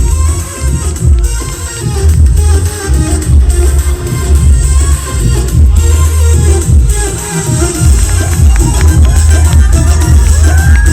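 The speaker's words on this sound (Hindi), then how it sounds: "जोरदार ताली होनी चाहिए" A dense crowd at a live event held in Bhojpuri with star Pawan Singh, loud and sustained with cheering and babble washing over the whole stretch, swelling and dipping in steady waves.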